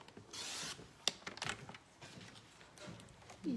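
Card stock for a card front being cut in a quiet room: soft sliding scrapes and a few sharp clicks and ticks from the cutting, all faint and close.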